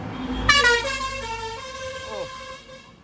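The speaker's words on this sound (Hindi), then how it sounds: "कोई ज़रूरत पेश नहीं आई थी उसे हॉर्न बजाने की, मगर बजा रहा, बजाने दो।" A vehicle horn blares in heavy traffic, one sustained loud honk with a slightly bending tone that fades out, over a low road rumble.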